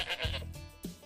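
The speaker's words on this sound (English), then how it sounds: "And that's Monty the Goat." A billy goat bleats twice, close and fairly loud, with a short gap between the calls and no talking.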